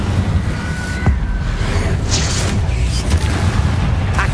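In Hogwarts Legacy, an Incendio fire spell is cast with a few booming whooshes and crackling bursts over constant rumbling battle noise, loud and close.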